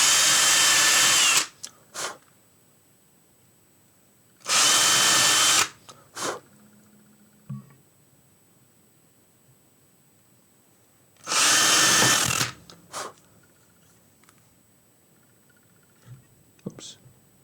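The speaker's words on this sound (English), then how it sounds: "Chuck's a bit wobbly on this drill." An electric drill with a wobbly chuck bores a small pilot hole into guitar wood in a luthier's workshop, running in three loud bursts of about one to two seconds with quiet pauses and soft handling noises between; a person speaks quietly.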